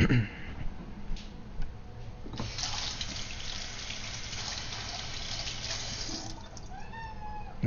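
Running water from a tap fills the background while a cat lets out several rising meows toward the end, close by.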